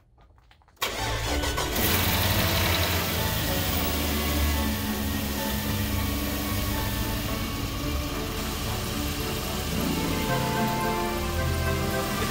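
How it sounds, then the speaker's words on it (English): Car engine with an exhaust manifold leak cranks briefly then catches and settles into a steady, loud idle close by, running continuously after the start, with no talk. "So I'm going to run this thing and see how it is with the engine on."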